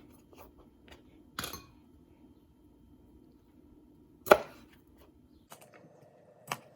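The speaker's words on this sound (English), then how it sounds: "we're going to take our cherry tomatoes that we just washed and simply cut them in half" Washed cherry tomatoes being cut in half with a knife: a few sparse, crisp chops and taps on a board at uneven intervals, close and otherwise quiet.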